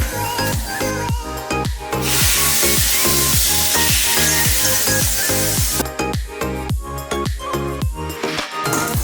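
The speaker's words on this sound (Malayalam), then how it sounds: "ഈ കടുക് വറുത്ത സാധനം നമുക്ക് ഇതിലോട്ട് ഒഴിക്കാം." A sharp, loud burst of sizzling erupts as hot mustard-seed tempering hits a jackfruit-seed and mango curry, hissing strongly for a few seconds between rhythmic clinking and stirring sounds.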